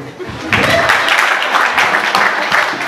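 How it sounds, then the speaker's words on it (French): A congregation at a sermon breaks into loud, dense applause, a steady wash of clapping lasting a few seconds with voices mixed in. "Acclamez pour lui."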